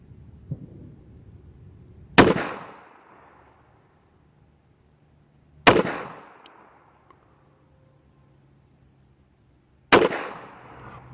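Three sharp, loud gunshots from a used Taurus 52S .380 pistol, spaced a few seconds apart, each with a short ringing decay and quiet pauses between.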